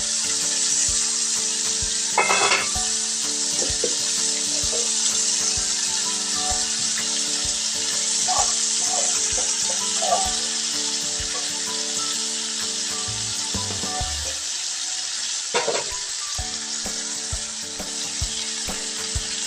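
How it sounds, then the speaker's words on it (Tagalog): Squash shoots sizzling and frying steadily in a pan alongside squash and okra, a loud continuous hiss with occasional faint scrapes and clicks throughout. "Lagay na rin natin yung pinakatalbos ng kalabasa."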